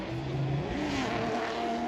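An autocross race car pulls away again after a spin, its engine note climbing and shifting in a sustained moderately distant drone, heard alone without talk.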